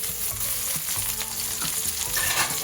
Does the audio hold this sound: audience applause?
no